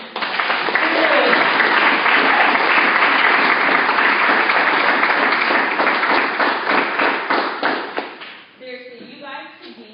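Audience applause fills a room, loud and dense with many hands clapping together for several seconds before tapering off at the end.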